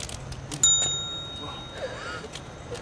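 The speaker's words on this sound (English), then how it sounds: "just consistently ring the bell" A single clear ring of a small bell, close and bright, with a short lingering tone over quiet background noise.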